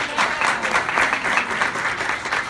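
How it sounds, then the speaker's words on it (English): Short burst of dense audience applause at a union meeting, steady and fairly close throughout, with no talking over it. "Please give her a round of applause."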